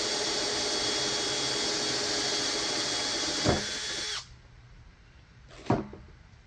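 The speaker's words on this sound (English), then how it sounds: "Just let the weight of the drill do the work for a clean hole." An electric drill fitted with a spade bit bores a hole in a plastic barrel, running steadily for about four seconds before it cuts off, then a brief clunk and a second short burst.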